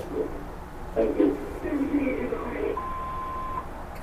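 A spoken answering machine greeting ends in a single steady electronic beep, held for about a second at a moderate level after the voice.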